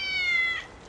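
A cat meows once, a short clear call that fades out toward the end, with no talking over it.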